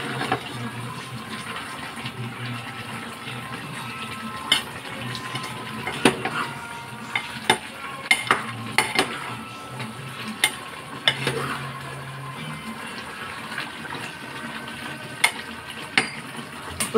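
Spoon stirring masala powder into a simmering dish, with repeated sharp scrapes and clinks against the pot over a steady low bubbling sizzle, close and fairly loud, no voices.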